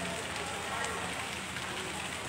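Steady rain falls at Daya bus terminal in Makassar, a dense, even hiss that stays constant throughout without distinct drops or pauses.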